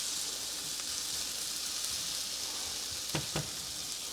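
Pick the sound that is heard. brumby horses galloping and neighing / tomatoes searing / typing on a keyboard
tomatoes searing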